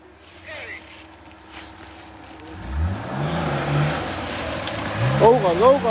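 A tractor engine rumbles nearby and builds in revs, while people talk over it.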